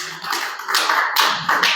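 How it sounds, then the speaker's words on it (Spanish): A church congregation claps together as an offering of praise to God after prayer, a dense, steady patter of many hands in bursts, fairly loud and with no voices. "Dale una ofrenda de palmas a nuestro Dios."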